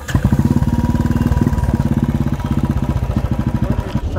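A motorcycle engine runs close by with a rapid, even chugging thump. It may have an air lock or be low on petrol, and its uneven pulses beat steadily throughout.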